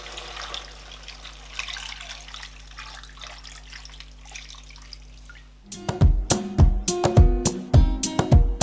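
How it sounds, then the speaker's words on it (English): Water poured into a pot of Nigerian chicken and yam pepper soup: after a quiet stretch with a low hum, splashing and bright dripping plinks start abruptly and continue close and fairly loud. "Now I am going to add water."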